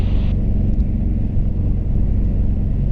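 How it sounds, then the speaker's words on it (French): Storm 280 ultralight aircraft engine turning over gently, a steady low droning rumble heard close and continuous from the cockpit, fairly loud with no talk over it. "Tu as ton moteur qui tourne doucement"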